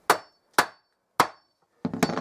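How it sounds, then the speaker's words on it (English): Hammer striking a wooden bench leg to square it up: three sharp, close knocks evenly spaced, followed by a quick burst of rattling blows. "I'll give it a clout with a hammer."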